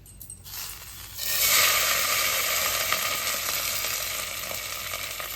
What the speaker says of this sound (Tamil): கடுகு, உளுந்த பருப்பு, காஞ்ச மிளகாய், கருவேப்பிலை நல்லா தாளிச்சாச்சுங்க.